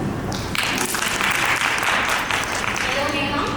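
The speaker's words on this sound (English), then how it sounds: "Yeah, that's fine. I'll clap." Applause from an audience at an indoor conversation event: a dense, continuous wash of clapping that fills the room, with voices mixed in beneath it.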